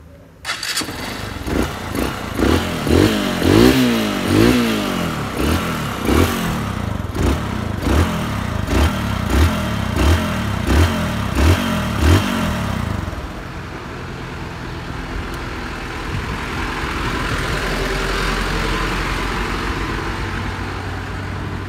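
A motorcycle with a freshly rebuilt engine fires up, then gets a run of sharp, rhythmic revs near the mic. It falls back to a steady idle rumble for the last several seconds.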